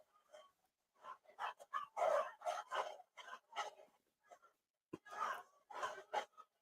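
Small Chihuahuas yap in quick, scattered bursts of barking, sounding distant and fairly faint in the background of a quiet room.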